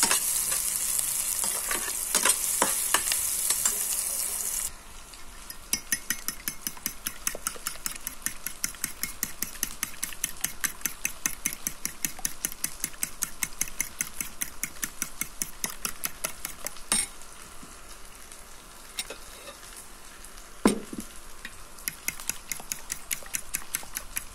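Onions fry in a pan for a Filipino ginisa ampalaya, a steady sizzle with a fast regular clatter of stirring. A loud hiss opens the sound before it settles, and no one speaks.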